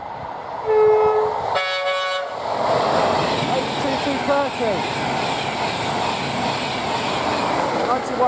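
Short horn blast from a Virgin Trains East Coast train, then a second harmonic horn tone, followed by a long loud roar of the passing train with rumbling wheels, at York.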